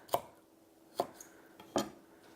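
A kitchen knife slices through lightly crushed garlic cloves in three crisp, evenly spaced cuts against a cutting board, quiet and close, with no talking.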